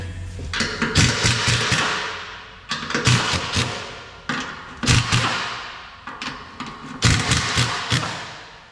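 A Ford Mustang engine with stock exhaust repeatedly revs up and drops back, rising in loud, throaty bursts from the exhaust, each swell fading before the next.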